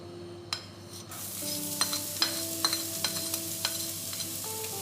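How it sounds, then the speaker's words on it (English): Garlic and shallots sizzle and crackle in hot oil as they are stir-fried for fried rice, with a steady frying hiss broken by repeated light scrapes and clinks of a spatula against the pan. "Hear the sizzling sound, that's what we want."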